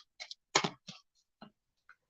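Cards from a deck being shuffled, heard as a handful of sharp, separate snaps and riffles spread irregularly across a quiet background, close and fairly soft.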